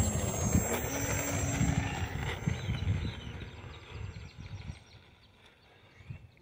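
Aeroscout 1.1m S2 RC model airplane in flight outdoors, a steady propeller and motor drone with a faint whine that holds loud, then gradually fades as the plane moves away.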